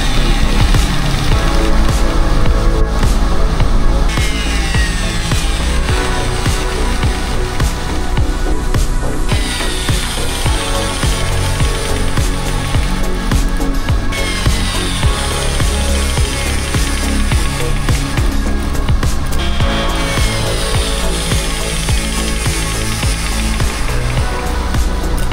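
A brake test machine spins a carbon ceramic disc from 118 km/h down to a stop, giving a loud, steady, dense grinding roar with no talk over it.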